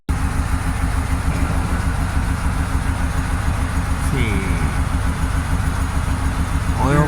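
A Pontiac Grand Prix GXP, revived after sitting abandoned, idles steadily just after its first start-up, a loud, even rumble that runs throughout with a few faint chirps over it.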